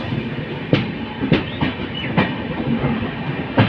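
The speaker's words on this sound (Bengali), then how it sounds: "চলো পদাতিক এক্সপ্রেস ডিপার্চার হলো নিউ প্যান্ডা থেকে" The Padatik Express pulls out of New Jalpaiguri and gathers speed, its wheels knocking over rail joints in sharp, irregular clacks above a steady rolling rumble, heard from on board.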